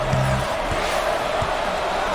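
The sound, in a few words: basketball crowd cheering in a video game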